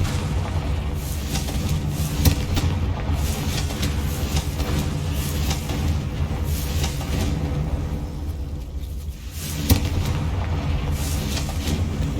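Confringo, the explosive fire spell in the Hogwarts Legacy video game, goes off amid a continuous loud rumbling barrage of game effects, with sharper blasts standing out along the way.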